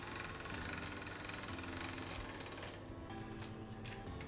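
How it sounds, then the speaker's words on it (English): A hand-cranked pasta machine rolling a sheet of dough through its rollers, a steady mechanical grinding and whirring that runs continuously and close, with faint clicks near the end. "So I'll just roll it through each layer twice, and we're gonna go right up until the penultimate layer on the machine"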